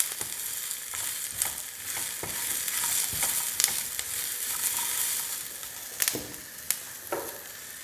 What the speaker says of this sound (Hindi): देख रहे हैं how it's sizzling in the pan. Give it a good stir for 2 to 3 minutes.